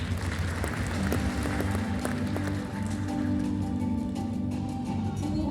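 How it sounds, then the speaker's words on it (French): Audience applause at an insurance industry general assembly panel in Marrakech, a continuous dense patter of clapping over a low hum of the hall. "c'était Madame Wafa Mrewa, sous vos applaudissements."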